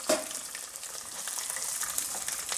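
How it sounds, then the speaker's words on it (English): Curry leaves and dry chilli dropped into hot oil with roasted dal and groundnuts for lemon rice, giving a steady, close crackling sizzle with light stirring throughout. "Now add the curry leaves and dry chilli"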